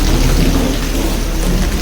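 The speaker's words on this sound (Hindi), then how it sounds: "भयंकर वाली बारिश हो रही है" Heavy rain pouring down in a loud, dense, continuous roar with deep rumbling underneath, close and steady throughout, with no talk.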